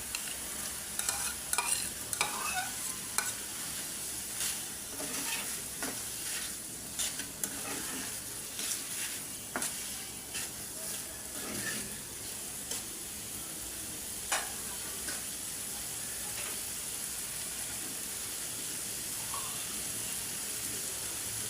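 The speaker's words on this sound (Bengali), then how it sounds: "মশলাটা কষানি আসছে, এখন আমি আলু দিয়ে দিব।" Steady sizzling of potatoes frying in spice paste in a pan, with frequent scraping and stirring clatter from a utensil throughout; no voices.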